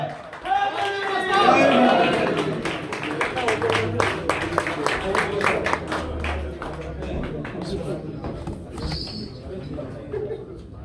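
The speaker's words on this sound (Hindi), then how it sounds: "शहजादे ने नानिया तालियां हो जाए जनाब वाला" A live audience claps for a singer at a stage program in Bradford, UK, with a steady stream of crisp claps over several seconds mixed with voices and low background sound.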